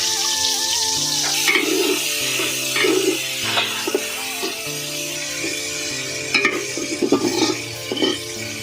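Onions frying in a pot just used for frying, ahead of cooking meat for a chicken dish, with steady sizzling throughout and repeated scraping stirs of a utensil against the pot, no talk.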